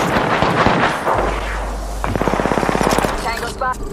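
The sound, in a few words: gunshots in Apex Legends video game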